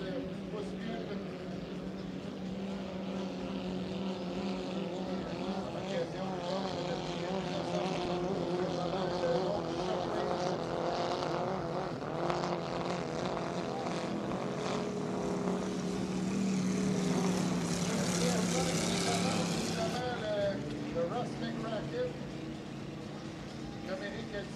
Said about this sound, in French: Bateau construit en 1972 par Alan Clark qui a utilisé les plans Larry Lutterback et Henry Lutterback